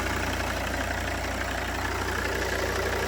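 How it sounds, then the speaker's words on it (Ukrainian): A Volvo V70 D3 five-cylinder diesel engine idles steadily up close, a low, even rumble with a regular pulsing beat and no voices. "п'ятициліндровий звучить, дуже класно."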